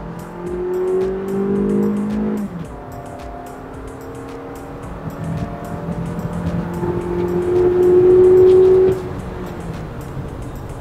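A four-wheel-drive car accelerating in Tiptronic mode, its engine note climbing steadily through the gears with brief dips at each shift, loud and continuous, swelling toward a peak near the end and then easing off, with no one talking.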